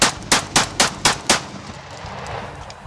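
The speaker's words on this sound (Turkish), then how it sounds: "tüfeğimizin test atışını yapacağız" A shotgun is test fired outdoors, five sharp, loud blasts in quick succession about a quarter second apart, each with a brief ringing tail, followed by a quiet outdoor lull.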